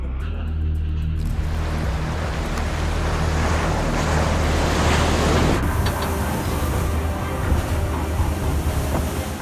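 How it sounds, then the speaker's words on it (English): Storm waves smash against the deck of a ship on the open ocean as wind howls, making a loud, steady roaring wash that fills the whole stretch with no voices. "The wind howled, and the waves smashed against the deck with such fury"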